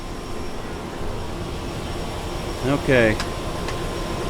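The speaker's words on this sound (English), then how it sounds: "it's a small little plane" Steady engine drone inside a small plane on a scenic flight tour over the Whitsundays and Great Barrier Reef, a constant cabin roar that continues under a brief spoken word.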